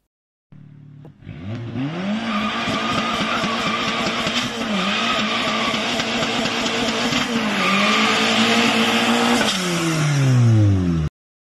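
A G40 car does a burnout, its engine revving hard and tires squealing continuously as it skids, loud and close, with pitch swells and dips over about ten seconds and no talk.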